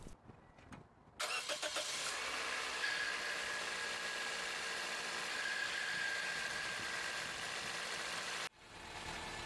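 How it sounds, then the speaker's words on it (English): A Pontiac Vibe engine cranks and catches after a short quiet moment, then settles into a steady, fairly loud idle that runs for several seconds before cutting off abruptly near the end. "And start the engine."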